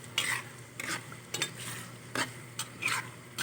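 Garlic toasts in oil for chili oil while being stirred, with quiet scraping strokes repeating roughly every half second over a faint sizzle.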